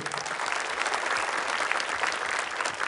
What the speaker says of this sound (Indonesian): Tepuk tangan untuk para Dewan Guru